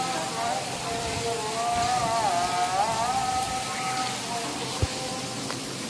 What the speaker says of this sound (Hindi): इतने दिन से तो हल्की हल्की बारिश हो रही थी।